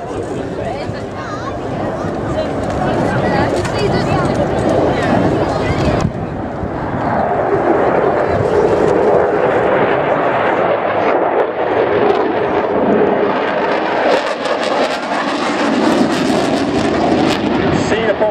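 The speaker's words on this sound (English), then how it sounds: "Reheat there, but the afterburner's on." A canard-winged jet fighter roars past at an airshow with its afterburner lit, a loud sustained rumbling blast that swells and rolls across the whole stretch while a commentator talks over it.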